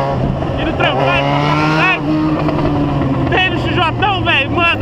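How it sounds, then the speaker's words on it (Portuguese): A motorcycle engine is revved hard several times, loud and close, its pitch sweeping up and down in repeated bursts, with a voice heard between revs. "tô acelerando aqui"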